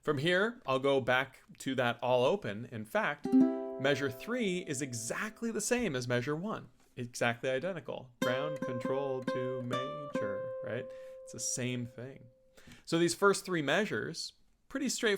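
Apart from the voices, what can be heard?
None of the usual background noises is heard.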